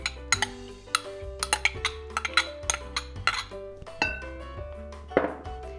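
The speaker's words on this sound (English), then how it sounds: "I like to scrape it with a spoon just to make sure all that butter is out" A spoon scraping melted butter out of a bowl, close and clear, with a run of quick clinks and scrapes against the bowl in an uneven rhythm, no talking.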